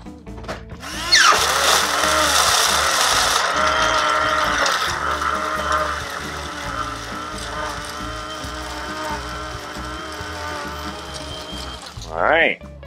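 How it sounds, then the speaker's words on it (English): A blender whirs through a cocktail with crushed ice, starting with a loud grinding burst as the ice breaks up, then settling into a steady high motor whine before a short rising spin-down at the end. "and blend it up."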